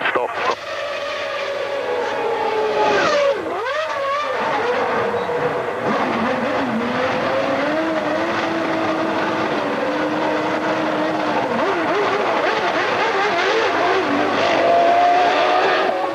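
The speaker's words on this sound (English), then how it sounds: "Bring in Schumacher in as well. Ferrari's coming in as well." Formula One cars, including a Ferrari, scream in and out of the pit lane during pit stops, high engine whines rising and falling close by, under steady commentary.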